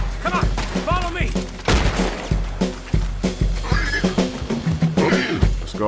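Horses in the video game Red Dead Redemption 2 neigh and whinny repeatedly amid bursts of gunfire and hoof clatter, loud and close, with a voice talking over it.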